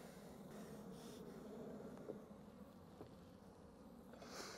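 Honeybees fly around an open hive, a faint steady buzzing drone with occasional louder passes as individual bees zip close by, quiet and continuous with no voices.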